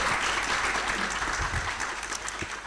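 Steady applause from a faculty retreat audience at a panel discussion, a dense patter of many hands clapping throughout the short stretch.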